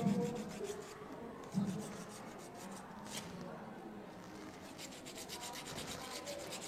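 A duck egg shell being sanded thin while making salted eggs, a steady scratchy rubbing in quick repeated strokes, close and fairly quiet, with faint voices in the background.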